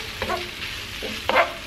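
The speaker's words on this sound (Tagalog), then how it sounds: "So, stir lang natin to." Fettuccine pasta being stirred in a pan over a steady background sizzle, with two short scraping stir strokes standing out, one early and a louder one near the end.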